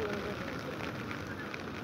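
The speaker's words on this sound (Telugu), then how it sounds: "వర్షం పడుతూనే ఉంది" Rain falls steadily during a rainy spell near Ramotswa, Botswana, a continuous close wash of patter and hiss with no clear gaps.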